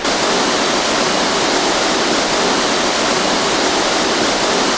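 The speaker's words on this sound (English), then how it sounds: "we're going to the edge of the waterfall, right here" Spring water pours over a waterfall on the Big Sur coast in California, a loud, dense, unbroken roar that stays steady throughout, close by, with no voices.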